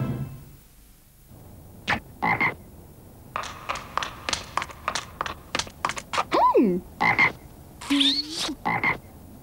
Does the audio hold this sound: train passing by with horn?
no